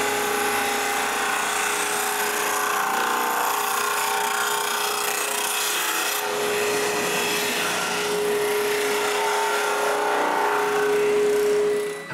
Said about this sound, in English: I use a drum sander to sand both rings thinner.